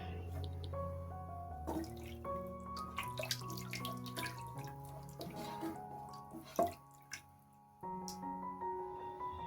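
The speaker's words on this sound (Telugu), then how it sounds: "ఇక్కడ 3 గ్లాసుల వరకు వాటర్ పోసుకోవాలి" Water pours into a pot for tomato rice, a faint, steady trickle with rising tones as the vessel fills, quiet and without talk.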